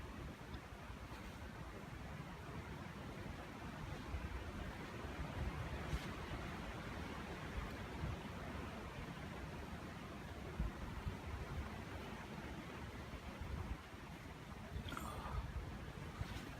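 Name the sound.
strong wind blowing outdoors at a hammock camp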